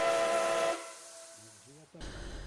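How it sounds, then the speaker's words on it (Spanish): A loud steam train whistle blares with hissing steam, then cuts away to a lower rumble, with brief voice-like sounds in between. "recuerda los fuertes silbatos del tren"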